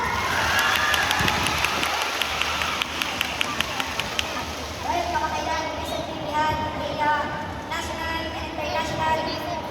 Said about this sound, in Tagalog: Sa lahat, isang palakas na palakpak!